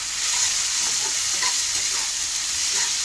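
Ginger-garlic paste and tomato frying in a pan, a loud steady sizzle with occasional stirring clinks and scrapes, close up and alone.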